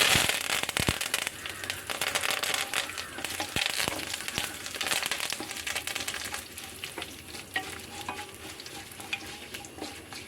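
Dried red chillies and curry leaves crackle and spit in hot oil for a Kerala onion curry, dense close sizzling with sharp popping bursts throughout, loudest early and settling slightly.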